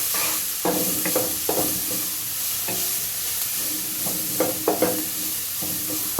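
Chillies hit hot oil with roasted cumin seeds, a steady close sizzling hiss broken by several sharp scraping stirs of a spoon against the pan.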